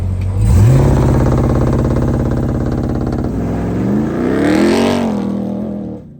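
A Ram TRX pickup truck launches hard with launch control, its engine rising to a loud, deep roar that climbs through gear changes and holds close and strong before cutting off.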